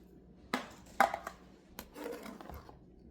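Knife chopping onions on a cutting board in a home kitchen, a few sharp, irregular knocks spaced apart, close and fairly quiet, with soft handling noises between them.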